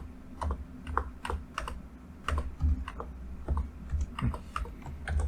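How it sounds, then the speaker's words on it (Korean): Computer keyboard keys pressed during coding, a run of crisp close clicks and taps at an irregular typing rhythm, several keystrokes per second with brief pauses, quiet and without talk. "이것도 탭 눌러서 탭"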